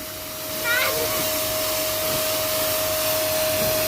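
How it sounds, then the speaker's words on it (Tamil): Electric washer motor running while a scooter is washed, a steady loud droning whine with a constant tone and a hissing spray, close and continuous throughout with no talking. "நான் இனிமேல் வந்து உன் மோட்டர் எடுத்துகிட்டு வந்து வாஷ் பண்ணிக்கிறேன் வண்டியை"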